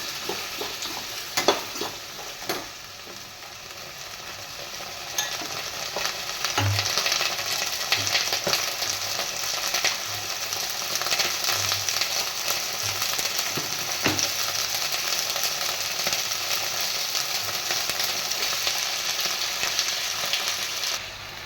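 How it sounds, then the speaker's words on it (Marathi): Green peas sautéing in a pan for pulao give a dense, steady sizzle throughout, with a few utensil scrapes and knocks near the start and faint stirring underneath. "वाटाणा पण टाकणार आहे मी. मस्त असं परतून घेणार आहे."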